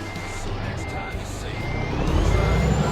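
A truck in American Truck Simulator backs up with a steady, repeating reversing beep over a rumbling engine that swells toward the end, while a voice talks along.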